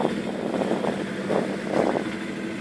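A boat's motor mounted on the bow drones while towing a sailing boat at sea, a rough, steady engine putter mixed with wind rush on the microphone, with slight surges in loudness.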